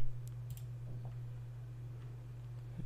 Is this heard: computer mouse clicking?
yes